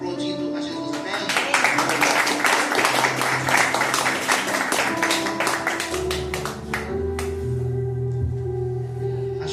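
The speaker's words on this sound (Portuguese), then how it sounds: "Receba o servo do Senhor aplaudindo a Jesus." Scattered clapping rises from a congregation during a church service, moderately loud and irregular, with sustained music or organ tones underneath that grow stronger toward the end.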